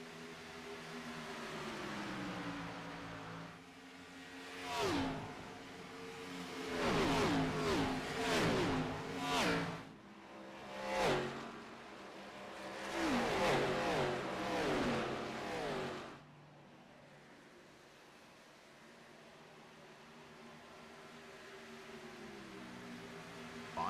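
Stock race cars in a Premier Series finale at Auto Club roar past one after another, engines surging loud in a cluster of close passes through the middle stretch before fading to a steady distant hum.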